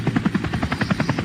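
A helicopter sound effect for a radio traffic and weather report plays loud and close, a rapid even rotor chop of about a dozen beats in just over a second.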